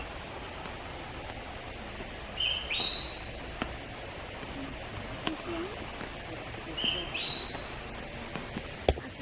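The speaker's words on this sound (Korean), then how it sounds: "새소리가 너무 청량합니다" Birds in a forest near Kota Kinabalu give a few bright, brief chirps and whistles at moderate distance over a steady background hiss.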